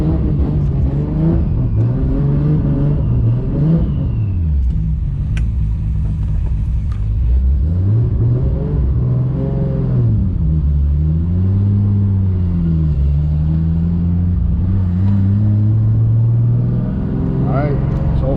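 A Toyota Supra on a first drive after a differential and ring gear replacement, its engine rumbling and revving up and down steadily throughout, with someone talking over the drive.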